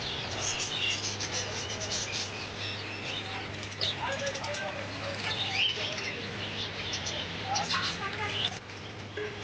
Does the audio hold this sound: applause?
no